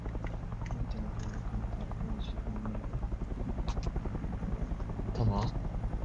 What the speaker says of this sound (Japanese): ヘリコプターの音がする。